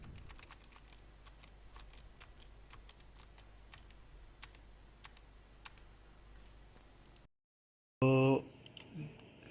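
Clicky keystrokes on a Fantech Optimax MK885 RGB mechanical keyboard, a quick irregular run of taps at close range, followed by a brief gap and a short burst of louder sound.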